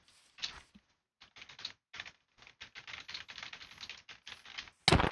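Fast clattering keystrokes on a computer keyboard during an online game, in irregular bursts with short pauses, close and crisp, ending on a louder bump, with no speech.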